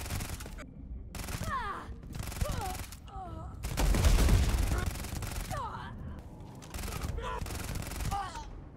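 Gunfire from a powerful gun in a video game: loud bursts of rapid shots come in repeated volleys with short gaps between them, the heaviest in the middle, while a voice speaks now and then.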